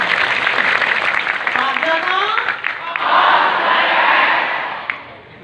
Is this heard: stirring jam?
no